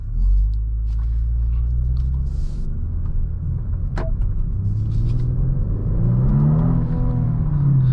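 A 2024 Genesis G70 3.3T Sport Prestige with an 8-speed automatic driving, with a steady low engine rumble from inside the car that rises in pitch as it accelerates toward the end.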